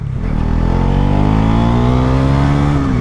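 A Bajaj Pulsar NS400 motorcycle engine revs up under throttle, its pitch climbing steadily and then holding at a loud, close roar.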